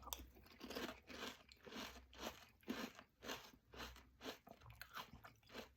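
Peanut Butter Chex cereal soaking in milk is chewed close to the mouth, giving rhythmic, crisp crunches about once a second, quiet and with no talking.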